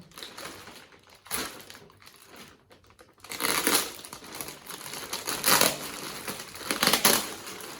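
Adhesive tape being peeled off the packaging of a Huawei SUN2000-10KTL-M1 inverter, heard as several close, loud crackling rips in bursts, with quieter crinkling between them and no talk.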